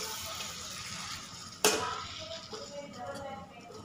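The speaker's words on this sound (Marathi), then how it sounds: "आता आपण कोबी टाकलं आहे, कोबी व्यवस्थित हलवून घ्यायचं" Shredded cabbage stirred and frying in a pan, a soft continuous sizzle with one sharp scrape of the spatula partway through, close but fairly quiet.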